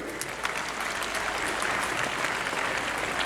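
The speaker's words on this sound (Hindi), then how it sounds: "परफेक्ट, तालियां बजाइए।" Schoolchildren at a PM Shri Kendriya Vidyalaya in Churu applaud a classmate, a steady wash of many hands clapping in a room, moderately distant and continuous.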